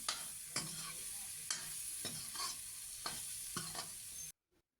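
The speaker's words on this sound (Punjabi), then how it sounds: "ਆਪਾਂ ਇਸੇ ਤਰ੍ਹਾਂ ਆਲੂਆਂ ਨੂੰ ਭੁੰਨਣਾ ਹੈ ਤਾਂ ਜੋ ਥੋੜੇ ਜਿਹਾ ਸੌਫਟ ਹੋ ਜਾਣ" Potatoes stirred and frying in a spiced tempering for halon bhurji, a steady close sizzle broken by about eight sharp scraping stirs of the spoon against the pan, then a sudden cut to near silence with one faint tap.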